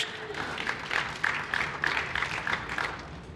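Audience applause at a tech conference session, a fairly faint, moderate patter of clapping heard from a distance, carrying on evenly for a few seconds.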